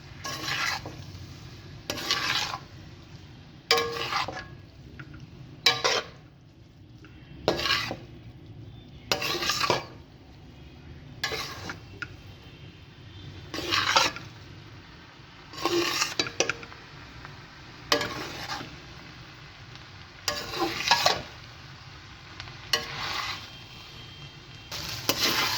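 Chicken fried rice with chopped fried eggs stirred in a hot pan, a metal spoon scraping and clanking in steady repeated strokes about every two seconds over a low, continuous sizzle, with no talking.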